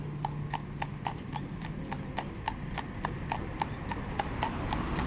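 A bay cob's hooves clip-clop in a steady, even rhythm on a town road as it pulls a training carriage, each strike clear and fairly close over a continuous low street rumble.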